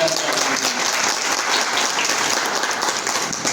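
Students in a seated hall applaud for Dr. Mahesh Chavan with a steady, dense burst of clapping that holds strongly for several seconds.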